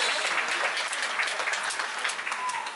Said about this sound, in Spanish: Un aplauso para él, un aplauso